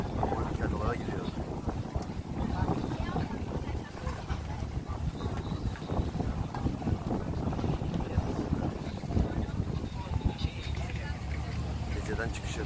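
Steady boat engine drone from tour boats heading out to the Dodecanese islands, with rushing wind buffeting the microphone and water noise, while people talk over it.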